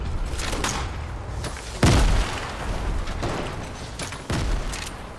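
Gunfire in a shooter game, several sharp booming shots and thuds spaced irregularly, two especially heavy close impacts, over a constant noisy background with no talk.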